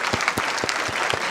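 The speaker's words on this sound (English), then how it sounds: "I want you to have a big applause for all the heroes that I have listed above" Applause from an audience at an event about halting global warming in Orizaba, Veracruz, 2009, heard as a short burst of scattered clapping with a few louder, distinct claps standing out.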